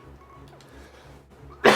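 A single sharp cough bursts out at the very end, loud and close, after a stretch of quiet room noise.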